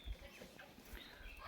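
A village hen roams about and clucks faintly in short, low calls, with slight rustling and background ambience.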